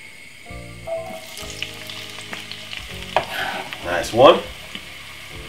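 Vegetables hit a hot pan for a sweetcorn corned beef dish, giving a steady sizzle with scraping stirs and a louder burst of frying near the end, while someone speaks briefly.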